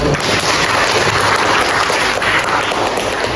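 A classroom bursts into loud, continuous applause after a group presentation, many hands clapping together in a dense, even wash with no talking over it.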